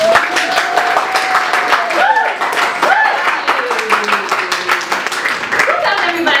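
Comedy show audience clapping and whooping for a comedian, a loose scattering of claps and cheers with voices talking over it throughout.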